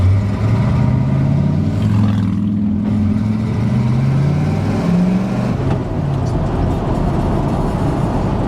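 A project bush truck on unbalanced 37-inch tires driving down a bumpy road, with a loud, steady engine drone and low rumble filling the cabin throughout, and no talk.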